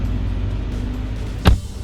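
A single solid thud of a 2016 Chrysler 200 Limited's door shutting, heard from inside over a low engine hum.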